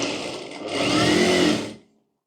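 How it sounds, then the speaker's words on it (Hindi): An electric sewing machine stitches the back part of a blouse, running in one continuous whirring burst that speeds up after a brief start and then stops abruptly, close and loud. "इसको इस तरह से रख कर पहले चारों ओर सिलाई कर लेते हैं"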